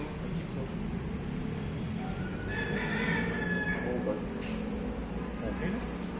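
Chickens cluck and a rooster crows outdoors, mid-distance, over steady background noise while people talk throughout.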